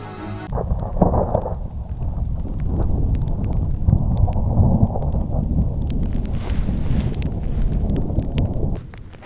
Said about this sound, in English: Thunder sounds kind of serious.